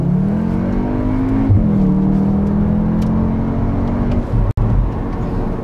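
A Cupra car with 320 horsepower, driven in its Cupra driving mode, accelerates hard from inside the cabin, its engine note rising steadily through the gears, with a brief dip at each shift. The sound is loud and close, with no talking.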